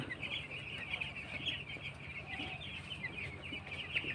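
Many six-day-old broiler chicks cheep and peep constantly in a dense, high chorus, a flock of about 500 close around with no pause.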